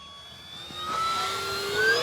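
An E-flite P-47 Razorback RC model warbird on a 3S pack passes low over treetops, its electric motor whine rising steadily in pitch and loudness as it approaches, heard alone.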